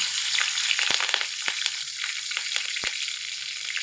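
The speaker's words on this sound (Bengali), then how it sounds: "দুটো কাঁচা লঙ্কা মাঝখান দিয়ে চিড়ে নিয়েছি সে দুটো আমি তেলের মধ্যে দিয়ে দিচ্ছি" Two slit green chilies frying in hot oil, a bright, loud, continuous hiss and crackle with scattered sharp pops, close up and uninterrupted by voices.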